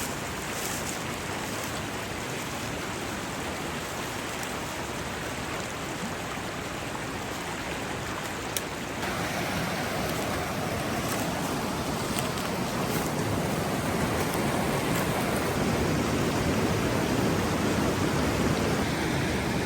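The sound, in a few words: river rapids flowing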